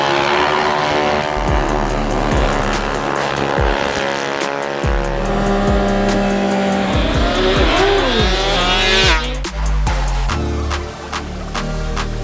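Scooters drag racing at Jack Drag Strip in Clearwater, Florida: loud, continuous high-revving engines roar and whine, pitches climbing and falling as machines launch and pass, with sharp bursts and tire squeal near the end.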